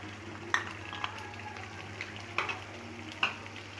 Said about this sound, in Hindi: और जनाब ये बहुत ज़्यादा छींटे उड़ा रहा है।